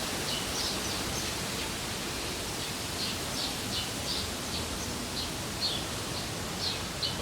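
Wind moves through trees outdoors as a steady broadband rush, soft and continuous, with faint brief high chirps scattered on top and no talking.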